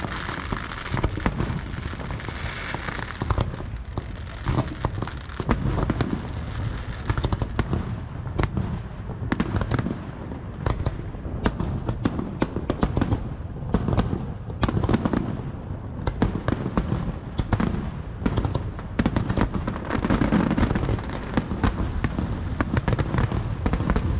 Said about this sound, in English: The Haw Eaters Festival ended with a beautiful display of fireworks